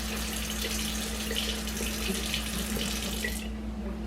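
A kitchen tap runs steadily with a full, hissing stream of water as fingers are wetted beneath it, then the flow is shut off abruptly near the end.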